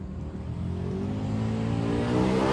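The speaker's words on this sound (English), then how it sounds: "Greg Edwards is going to stage the Camaro for another shot." A Chevrolet Camaro drag car idles and revs at the staging lanes of a drag racing event, a rising engine drone with climbing harmonics that swells louder toward the end, heard alone.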